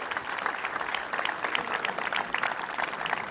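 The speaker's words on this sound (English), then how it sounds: "the boys would like to give all the parents, all the families a massive round of applause" A crowd at a minor championship sporting occasion applauds parents and families, with steady, dense clapping that stays loud and even throughout and no talk over it.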